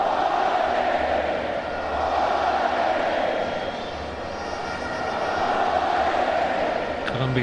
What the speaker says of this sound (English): Colombia fans beginning to cheer every pass.